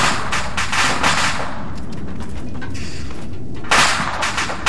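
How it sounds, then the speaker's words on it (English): An ammo crate explodes in the military game Arma 3, setting off a loud, dense burst of cracking, popping detonations that rattle on with brief lulls before another heavy blast near the end. "There goes an ammo crate."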